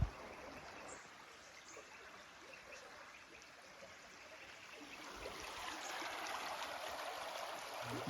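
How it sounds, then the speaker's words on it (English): Creek water runs and trickles steadily through a gold sluice, a soft, close, continuous babble that grows slightly fuller toward the end, with no talking. "We'll fill that up a few times and run it down the sluice"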